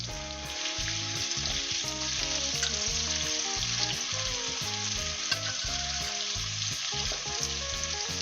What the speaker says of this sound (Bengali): আলুটাকে ওই পনির ভাজা তেলেতেই ছেড়ে দিচ্ছি